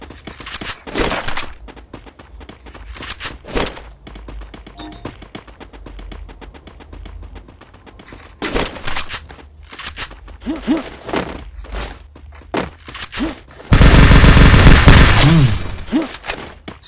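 An MP40 submachine gun fires in a mobile shooter game, with repeated rapid bursts of loud, close gunfire, short volleys with gaps, then one long sustained burst near the end.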